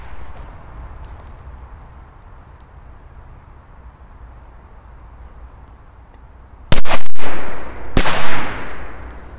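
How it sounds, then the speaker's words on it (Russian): After several seconds of quiet background, two loud firecracker blasts go off a second apart, the second followed by a crackling, hissing tail. "давайте два взрыва"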